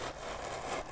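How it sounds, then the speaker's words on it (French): Scissors slicing through tape on a cardboard box, a close, continuous rough scraping cut lasting under a second. "je vais ouvrir avec un ciseau"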